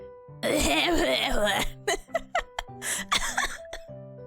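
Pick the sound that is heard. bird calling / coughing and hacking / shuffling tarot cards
coughing and hacking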